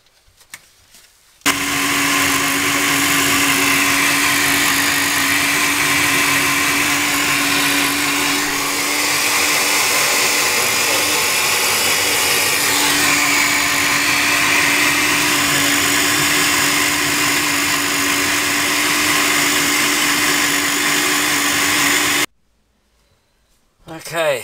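A blender whirs loud and steady for about twenty seconds while mixing a vanilla milkshake, starting abruptly and cutting off sharply near the end, with a voice audible over the motor.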